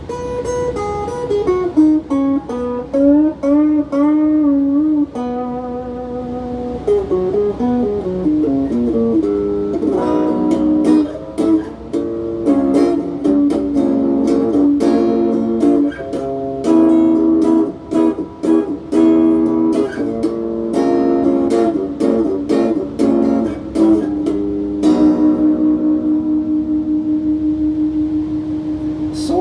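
Electric guitar with a thick, driven overdrive tone plays a long melodic phrase of bends and sustained notes, with rapid picked runs in the middle, loud and continuous.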